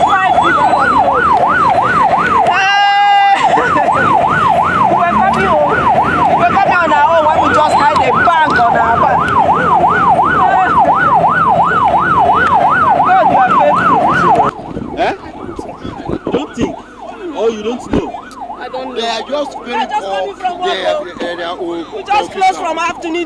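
A hospital ambulance siren wails loudly and close with a fast, steady up-and-down cycle at a road accident scene, then fades after a while as people keep talking and traffic noise continues.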